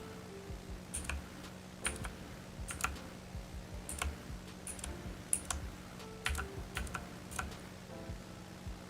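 Computer keyboard keys typed in quick irregular bursts while playing Roblox, moderately close and fairly quiet over a steady low hum, with no talking.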